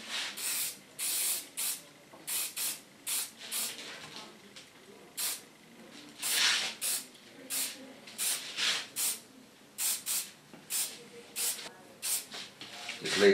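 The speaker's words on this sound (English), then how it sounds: "Spray." Repeated short bursts of hairspray hissing from a can, some long and some quick, spaced irregularly and close by.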